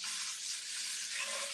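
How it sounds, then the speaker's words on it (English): Food frying in a pan in a home kitchen, a steady close hiss of sizzling that holds for the whole moment with no one speaking. "always want the sizzle"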